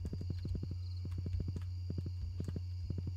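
Horse hooves clip-clop in the Stardew Valley video game, quick steady beats in rhythmic bursts over a constant low game hum.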